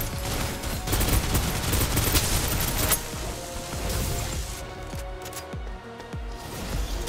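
Rapid gunfire from the video game Snowbreak: Containment Zone, a loud, continuous fusillade of crackling shots that thins toward the end into separate, spaced bursts.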